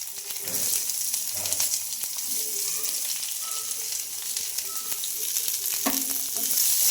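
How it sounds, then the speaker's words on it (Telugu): Chana dal, cumin, green chilies and onions fry in hot oil in a pan, giving a steady close sizzle with occasional scraping stirs and light clinks, no voices. "ఇవన్నీ వేసుకొని కొంచెం లైట్గా ఫ్రై చేసుకుందామండి"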